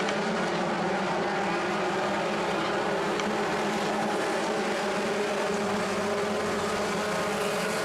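Ford Focus Midget race cars lap an oval track together, a steady dense engine drone with layered exhaust tones holding loud and continuous throughout, no talk over it.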